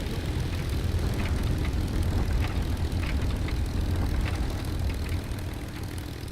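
A propeller aircraft engine drones steadily and loudly during a landing in the War Thunder video game, a continuous engine hum with no talk over it.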